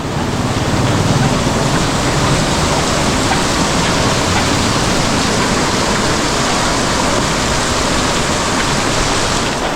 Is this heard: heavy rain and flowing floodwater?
yes